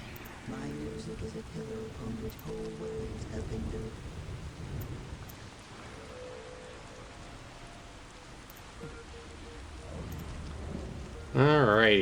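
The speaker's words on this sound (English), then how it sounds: "Oh man, I love the rain too." Steady rain hisses through the Warhammer 40,000 strategy game Dark Crusade, a continuous wash of falling drops with low rumbling underneath, joined by brief tonal game effects and a louder burst near the end.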